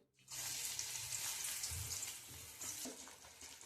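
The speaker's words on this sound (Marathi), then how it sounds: "आपलं तेल गरम झालंय, आपण त्यामध्ये वडी सोडू." Hot oil erupts into a loud, continuous hissing sizzle as coriander vadi drops in, bubbling steadily and close up.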